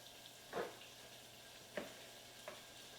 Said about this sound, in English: So these are nice and brown. I'm going to put this last piece in here. We're going to brown that up